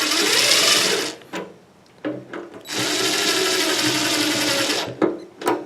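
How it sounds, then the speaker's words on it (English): A DeWalt screw gun drives screws into a motorcycle gas tank lined with POR-15 sealant, whirring loudly in two sustained runs with brief taps and pauses between them, close up and without talk. "I'm going to use just a DeWalt screw gun just to get them down in faster"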